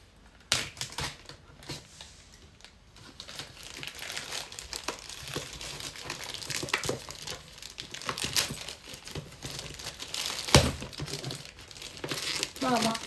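Plastic wrapping on an Amazon package crinkles and crackles as it is pulled open, a busy run of close rustling, tearing and tapping sounds with a voice talking over it.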